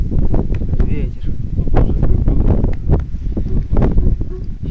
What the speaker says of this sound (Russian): Ай, ветер. Да? Ветер.